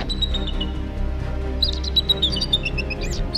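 A small bird in a 3D animated fairy-tale cartoon chirps in quick, bright tweets over a low, steady background tone, the calls clustering in the second half.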